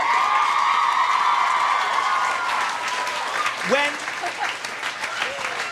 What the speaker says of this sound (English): #1 on the charts for 8 weeks, which, by the way, deserves an applause